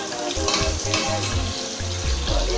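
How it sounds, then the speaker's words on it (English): Chopped onion frying in hot oil in a pan, a loud continuous sizzle and crackle close by, with intermittent scraping and stirring noises over it. "I'll fry this onion for some time for like 5 minutes before I add my fresh tomato"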